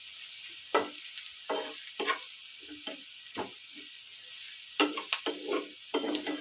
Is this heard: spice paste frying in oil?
yes